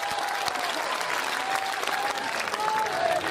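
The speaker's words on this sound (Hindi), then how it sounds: "एक बार दोनों हाथ खड़े करके जोरदार तालियां बजाकर मुझे हुक्म दे।" Crowd at a poetry recitation gathering claps loudly and steadily, a thick sustained roar of hands with occasional crowd noise mixed in.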